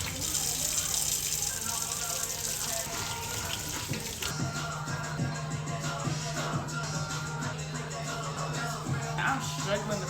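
A steady stream of tap water runs as steaks are rinsed under it, a continuous close gush that changes tone partway through as the meat moves into the flow.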